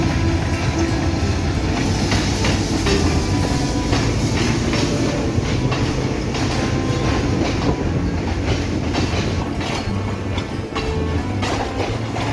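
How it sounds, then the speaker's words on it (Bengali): The 24 Down Rocket Mail, a local train from Chilahati bound for Khulna, rolls into line 3 at Akkelpur railway station with a loud, continuous rumble, rhythmic clickety-clack of wheels over rail joints and occasional faint squeals. "আক্কেলপুর রেলওয়ে স্টেশনের ৩ নম্বর লাইন দিয়ে প্রবেশ করছে চিলাহাটি থেকে ছেড়ে আসা খুলনাগামী ২৪ ডাউন রকেট মেল"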